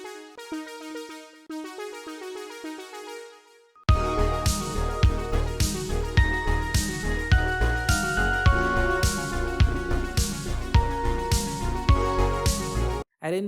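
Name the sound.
synthwave arpeggio from Synth1 plugin arpeggiator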